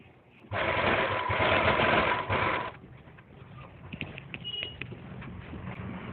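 Sewing machine stitching a Patiala salwar belt to the salwar: a close, loud burst of rapid even stitching for about two seconds, followed by quieter handling and softer intermittent machine noise.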